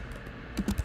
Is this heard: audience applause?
no